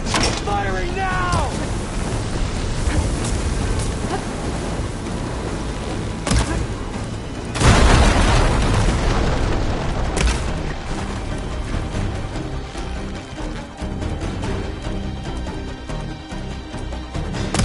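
Weapon fire and explosions in the PS5 video game Horizon Zero Dawn: dense, continuous battle noise with a heavy, loud blast near the middle and scattered thumps around it, with voices speaking over the action.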